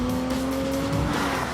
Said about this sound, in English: Flick the car through, using that 4-wheel steering, pick up the power